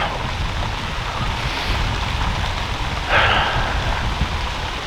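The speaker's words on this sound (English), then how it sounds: "rain's starting to come down" Steady rain falls during a late-season Ontario whitetail deer hunt, a continuous close hiss with one brief louder patter partway through and no talking.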